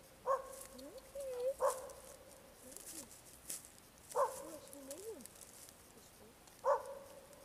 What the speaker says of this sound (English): There's a dog up on the hill.